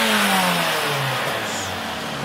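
Vauxhall Corsa engine revving loudly nearby, a steady roar with pitch sweeps falling and rising, heard alone without talk.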